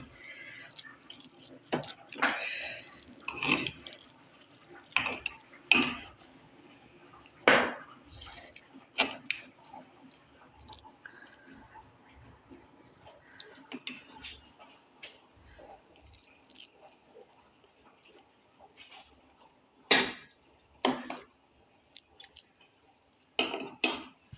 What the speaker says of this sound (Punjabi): ਇਸ ਤੋਂ ਬਾਅਦ ਆਪਾਂ ਇਹਨੂੰ ਭਾਂਡੇ 'ਚ ਕੱਢ ਲਵਾਂਗੇ ਜਿਹਦੇ 'ਚ ਖਾਣੀ ਹੈ